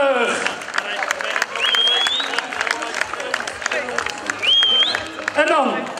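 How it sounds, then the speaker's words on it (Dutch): Crowd applause for a time trial rider at a village cycling race in Lekkerkerk, lively clapping and cheering running throughout with whistles and a busy outdoor hubbub, voices mixed in. "Dames en heren, mag ik een fijn applaus voor Judith Krabbenborg."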